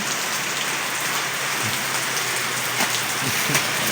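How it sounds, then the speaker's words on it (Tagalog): Heavy rain pours down steadily, a dense, even hiss of drops hitting surfaces with no pauses and no voices. "hindi na tumingil ang ulan, kaya kami naligo na lang"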